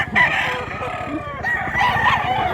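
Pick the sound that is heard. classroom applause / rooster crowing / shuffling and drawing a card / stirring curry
rooster crowing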